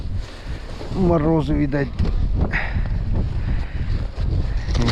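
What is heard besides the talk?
strong north wind blowing on the Pechora river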